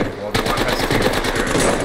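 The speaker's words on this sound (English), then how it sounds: "we're getting shot in the ass" Rapid automatic gunfire hits a squad in an online shooter, loud and close, a dense rattle of shots that bursts in suddenly and keeps going under players' voices.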